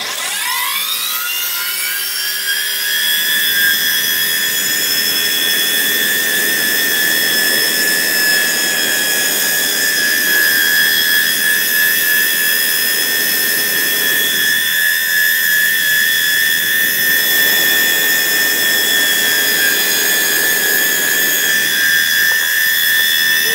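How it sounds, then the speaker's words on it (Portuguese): A bench grinder sharpens a pair of scissors. Its loud, steady high-pitched whine spins up at the start and holds, with the grinding contact swelling at intervals through the run. No one speaks. "E vamos dar uma última passada no esmeril aqui, ó."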